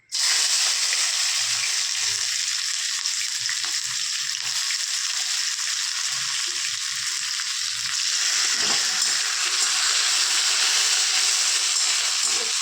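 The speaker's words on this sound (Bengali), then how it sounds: "এবার আমি পেঁয়াজটা দিয়ে দেবো কড়াতে।" Onion frying in hot oil in a wok, a dense continuous sizzle that starts suddenly and holds steady and loud, with occasional low stirring knocks beneath it.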